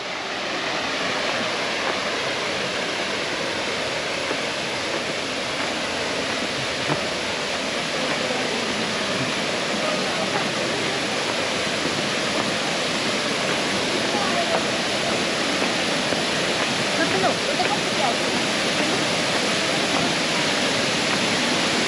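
Sanaghagara waterfall in Keonjhar, Odisha, roars as a loud, unbroken wash of falling water, close by and steady throughout, with faint voices half-buried beneath it.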